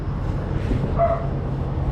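A dog gives a short, moderately near bark or yip at a cat hanging around outdoors, over a low background hum.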